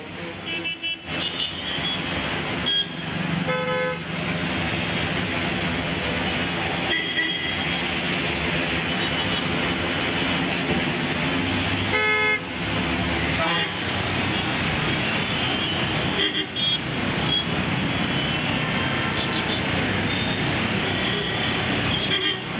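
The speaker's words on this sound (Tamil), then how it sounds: "தாம்பரம் அடுத்த பெருங்களத்தூர் மேம்பாலத்தில் லாரி பழுதாகி நின்றதால் கடும் போக்குவரத்து நெரிசல் ஏற்பட்டு இருக்கிறது." Heavy, dense traffic noise from a jam on the Perungalathur flyover near Tambaram where a lorry broke down, a loud continuous roar of engines with horns and rumbling vehicles throughout.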